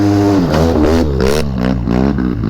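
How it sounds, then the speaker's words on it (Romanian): A Polaris ATV engine revs hard and aggressively nearby on frozen ground in winter, its pitch rising and falling in repeated surges. "Uite bă, Polarisul, ce nervos e."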